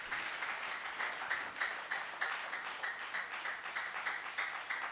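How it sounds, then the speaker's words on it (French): A church congregation applauding, steady rhythmic clapping from a crowd at moderate distance, sustained and even throughout. "Acclame pour le Seigneur."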